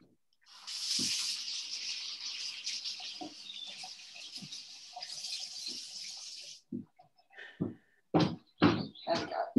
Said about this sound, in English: Just quickly rinse it under the water